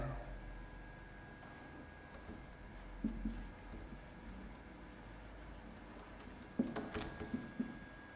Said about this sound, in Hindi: इसको पूरा मैं लिखता हूं स्टार्टिंग से